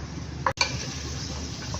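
Tomato and onion fry in a pan while being stirred, giving a soft, steady sizzle with scraping stir sounds and a brief clatter partway through.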